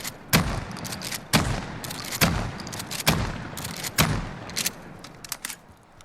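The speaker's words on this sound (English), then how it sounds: "So there we are, pulling the trigger as fast as we can. And you can see very tight, very accurate with these slug rounds." Remington TAC-14 shotgun firing slug rounds in Call of Duty Modern Warfare, five loud booming shots in quick, fairly even succession, each with a sharp crack and short decay, with no talking.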